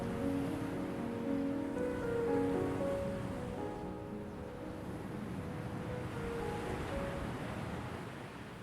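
Atlantic waves wash onto a wide sandy coast at Comporta, Portugal, as a continuous broad roar of surf with wind. Faint melodic tones float over it.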